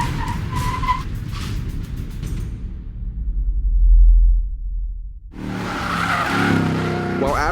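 A 2014 Mercedes-Benz CLS63 S AMG launching hard from a standstill: loud engine roar and tire squeal, a deep low rumble as it pulls away, then a renewed burst of engine and tire noise.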